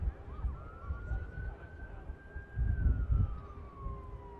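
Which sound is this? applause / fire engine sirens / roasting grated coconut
fire engine sirens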